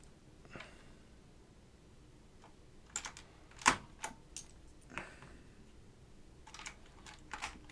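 Keys struck on a vintage computer keyboard during restoration, a sparse run of sharp clicks spread across the clip, some single and some in quick pairs, close and crisp over a quiet background.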